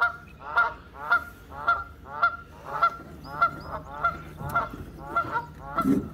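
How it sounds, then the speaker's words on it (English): Repeated loud Canada goose honks in a steady rhythm, about ten calls over several seconds, close by near Sebago Lake, Maine, in early spring, with faint background noise. "Canada geese."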